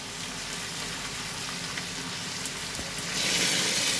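Hot oil sizzling in a pan while cooking dal with whole garam masala, a continuous bright fry that swells louder near the end.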